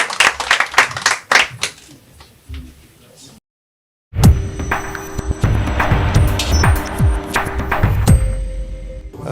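Audience applause at a ceremony for a financing agreement signing, a burst of clapping after a gap in speech, fairly loud and sustained with some voices mixed in.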